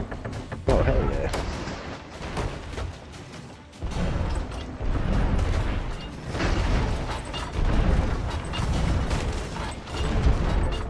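Ship cannons firing in a pirate naval battle in Sea of Thieves, a series of heavy booms and rumbling blasts over roughly ten seconds, loud and close, with players talking over the action.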